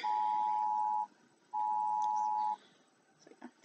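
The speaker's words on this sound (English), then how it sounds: "There goes my phone and the buzzer." A phone and a door buzzer go off together as two steady, loud electronic tones, each about a second long, separated by a short gap, followed by faint clicks and rustling.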